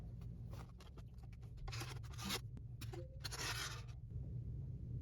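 A pen or marker traces around a PVC pipe laid on a surface, making faint, close scratchy strokes in short bursts with brief gaps, over a steady low background hum.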